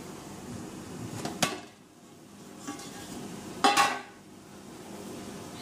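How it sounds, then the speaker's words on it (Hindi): Two sharp metallic clanks, about two seconds apart, as a steamer lid is lifted off a batch of oats dhokla, over a low kitchen hiss. "अब हम इसे स्टीमर को खोलकर चेक करेंगे कि ढोकला हमारा तैयार हुआ है या नहीं।"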